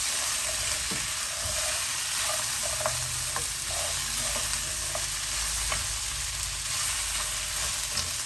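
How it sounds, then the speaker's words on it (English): Onion being stirred into lamb shank cooking in soy sauce, Fiji style, with a steady close sizzle and frying hiss under repeated scraping and stirring strokes, no voices. "And we'll give that all a really, really nice mix."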